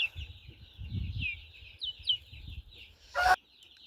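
Chickens on a backyard farm cluck and murmur softly, with low throaty clucking from a broody hen and higher chirping calls layered over it, plus a short sharp squawk near the end.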